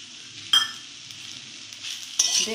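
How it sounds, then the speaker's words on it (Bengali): Fried onions stirred with salt and turmeric in a pan make a faint sizzle broken by two sharp scrapes of a spoon, one early and one near the end. "নুন হলুদ আর পেঁয়াজ দিয়ে একটু নাড়াচাড়া করে নেব"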